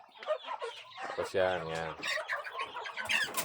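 Backyard poultry on a small farm with broilers and newly hatched chicks cluck close by, mixed in and partly masked under continuous talking by a man.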